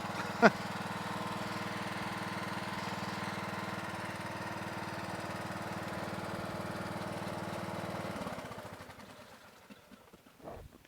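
A Troy-Bilt 17.5 HP, 42-inch, 8-speed lawn tractor engine runs at a steady, even drone without surging, then winds down and cuts off near the end, with a short knock at the start and one after shutdown.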